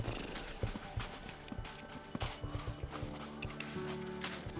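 Horses at a ranch clip-clop close by, with irregular hoof thuds and shuffling steps, and a faint low background hum underneath.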